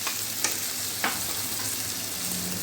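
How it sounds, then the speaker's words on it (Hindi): Tomato puree hitting a hot pan of frying Chicken Manchurian sauce sets off a steady sizzle, with a couple of sharp spatula clinks and stirring scrapes over the crackle; nobody speaks. "तो हम इसमें जी जो हमने टमाटर की प्यूरी बनाई थी वो ऐड करते हैं"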